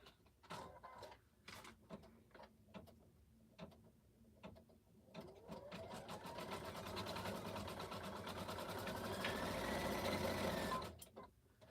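Domestic sewing machine stitching name badges runs in short bursts, then settles into one long steady whirring run that builds and holds before stopping abruptly near the end.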